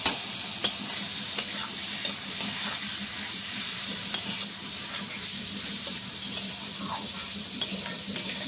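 Chow mein noodles being stir-fried in a pan in a home kitchen, with a steady sizzle and repeated scraping stirs and light clinks of a utensil against the pan throughout, close and fairly loud.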